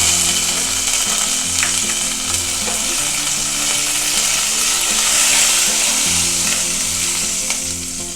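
Curry leaves and other tempering spices crackling and sizzling loudly in hot oil, a dense steady hiss with occasional pops and a low rhythmic hum underneath.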